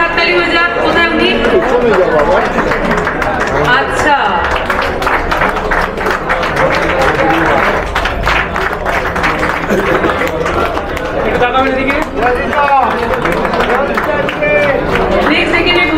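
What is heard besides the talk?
audience applause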